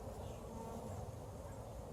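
Honeybees buzz around an open hive during a beekeeping inspection done without a protective suit, a continuous low droning hum of many bees close by, steady and moderately quiet.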